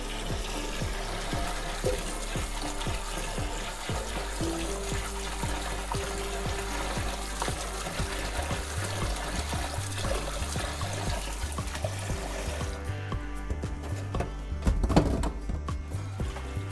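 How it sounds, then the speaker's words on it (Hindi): Soaked dal lentils being rinsed under running tap water for a dal makhani recipe, a steady continuous splashing and trickling throughout, close and fairly loud, with no talking. "तो इसको मैं फिर से वॉश करूंगी जब तक साफ पानी नहीं आ जाता।"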